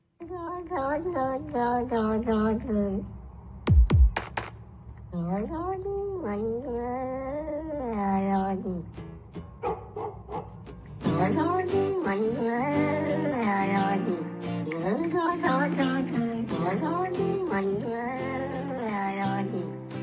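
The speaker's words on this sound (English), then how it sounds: "he's taken some talking cat samples and turned it into a song" Sung melody assembled from sampled talking-cat meows, remixed into a rock-style song, with continuous pitched vocal-like lines over music, a brief low swoop near the start, and fuller layered backing after the midpoint.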